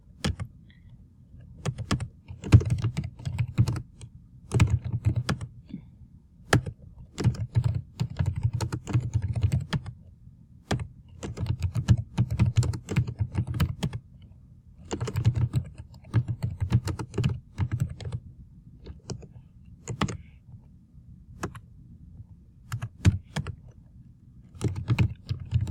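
Someone types on a computer keyboard, filling in a spreadsheet. The clicks come in quick bursts separated by short pauses over about twenty-five seconds, close and fairly quiet, with no talking.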